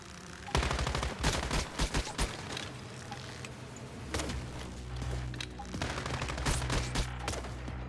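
Gunfire in an online video game, with a series of sharp close shots and bursts in the first few seconds followed by a rumbling, ongoing exchange of fire and thuds.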